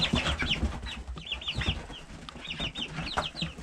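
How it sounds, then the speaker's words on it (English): Several chickens settled on a roost in a snowy homestead coop give soft, scattered clucks and murmurs close by, with brief rustles of feathers between them. "Hello, chickens. A couple of them enjoying their roost."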